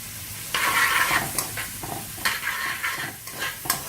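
Carrots sauté in a pan over medium-high heat for a vegan Dominican locrio, giving a steady close sizzle with scraping stirs that come in bursts, and no talking.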